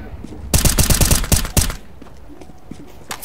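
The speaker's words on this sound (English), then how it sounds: "Okay, I just got shot at." Gunfire in the shooter game Counter-Strike: Global Offensive, a loud burst of rapid automatic shots lasting about a second, followed by fainter scattered pops and game ambience.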